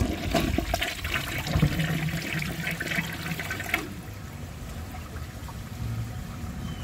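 A 1995 Procemex toilet flushes with a dish towel in the bowl, a loud close rushing gush of water for nearly four seconds that cuts off abruptly into a quieter trickling refill.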